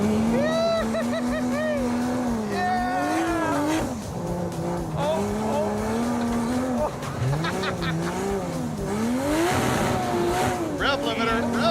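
A Dodge Charger engine revving hard and bouncing off its rev limiter, loud and close with rising and falling pitch sweeps, as voices speak over it.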